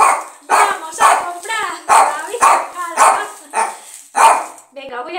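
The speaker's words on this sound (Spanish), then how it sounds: "este perro no me deja hacer nada" A dog barks repeatedly at close range while groceries from Mercadona are shown, loud sharp barks roughly every half second with a few whiny yips mixed in.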